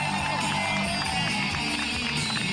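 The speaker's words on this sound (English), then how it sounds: "The crowd." A large crowd at Javier Milei's political speech in August 2021 keeps up a dense, loud, continuous roar of voices and cheering, with no single speaker standing out.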